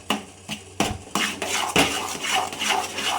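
A metal spoon scrapes and clinks against a pan in quick, irregular strokes as thick semolina is stirred for kesari, close and fairly loud.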